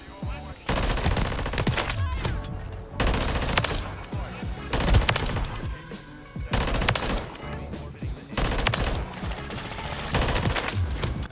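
Automatic gunfire from the video game Call of Duty comes in about five loud, sustained bursts separated by short pauses, each a rapid rattling stream of shots.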